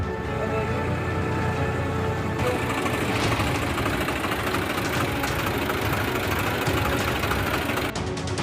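A tractor engine runs on a road submerged in about three feet of floodwater in Bihar, a continuous knocking, chugging drone that stays close and steady throughout.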